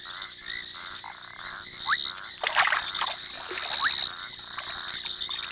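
Frogs croak steadily in chorus at a pond at night, with repeated calls overlapping and some rising chirps, moderately loud and close, with no talk.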